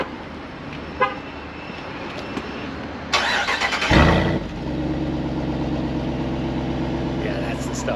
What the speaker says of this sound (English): Let's check out this exhaust sound here.